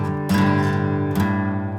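A strummed guitar chord from Bryan Adams' "Cuts Like a Knife" clashes because an undeadened string rings out, struck twice and left sustaining, close and alone.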